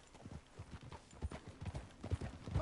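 Horse hooves clip-clop in a quick uneven rhythm on the ground, fairly faint and close, with low thuds repeating throughout in Red Dead Redemption 2.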